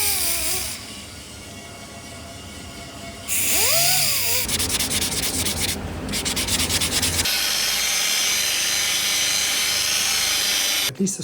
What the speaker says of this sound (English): today I'm going to be trialing the sanding, the finishing of the surface.